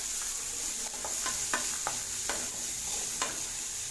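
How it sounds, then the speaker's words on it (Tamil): Chopped onions with salt sizzle steadily in a hot pan while a spoon stirs them, its scrapes landing in irregular strokes over the constant close frying hiss. "ஆட் பண்ணிவிட்டு வெங்காயத்தை நல்லா வதக்கி விட்டுக்கோங்க"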